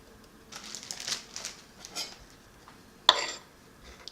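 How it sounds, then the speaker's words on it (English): A small knife chops pumpkin flesh into cubes on a cutting surface, giving a few quiet, irregular knocks and one sharper clack, with no talking. "And you're chopping it into about these size cubes."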